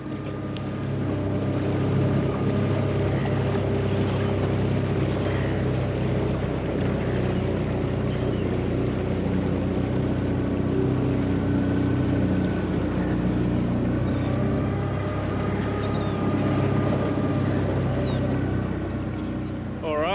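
A small outboard motor, a Suzuki 15 hp on a Sea Jay 370 HS boat, runs steadily at low throttle, a continuous putting drone with wind buffeting the microphone and occasional faint voices.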